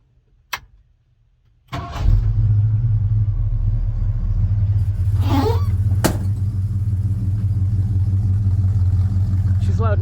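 A modified car engine with a new distributor, 4-barrel carb, better intake manifold and shop-welded dual exhaust cranks and fires up, then settles into a loud, steady, deep rumbling idle close by.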